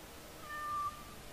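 Cat meowing in the fantasy video game Dragon Age Origins, one short faint meow heard alone over a low background hiss.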